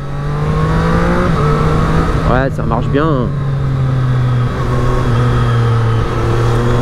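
A 2023 Triumph Street Triple 765 RS motorcycle engine running loud and close, a steady droning note with pitch shifts as it revs, while a rider talks over it briefly.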